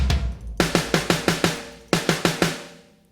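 A run of raw, unprocessed tom hits, several quick strikes, a brief gap, then another descending flurry, each ringing with open overtones before fading.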